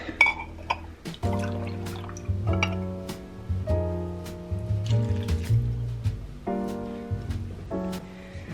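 Home-canned apple juice is poured for an apple cranberry relish, gurgling and glugging in uneven bursts with rising fill tones, close by and without talk.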